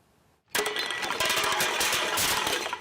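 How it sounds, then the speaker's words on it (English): Beer bottles clinking and soft drink cans rattling together in a dense, continuous clatter of glassy clinks and metallic knocks, starting abruptly after a brief quiet moment and staying loud throughout. "Clinking beer bottles and rattling soft drink cans have become a constant chorus in Emily McLaren's life"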